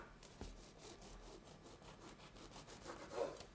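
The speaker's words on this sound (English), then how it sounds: "Slice some thin slices." A knife saws thin slices from a firm, day-old white bread loaf on a board, giving faint, soft, rhythmic rasping strokes close by.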